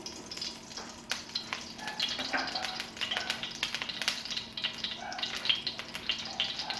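Oil poured into a pan for chicken biryani gives a steady, close sizzle and crackle with soft liquid hiss running throughout, fairly quiet, with no talking.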